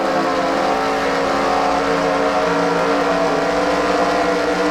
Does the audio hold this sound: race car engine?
yes